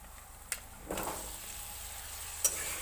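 Taro pieces drop into a hot pan with a sharp clatter and start frying, a steady sizzle filling the scene, with a second brief scrape of stirring near the end; no voices.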